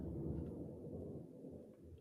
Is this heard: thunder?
yes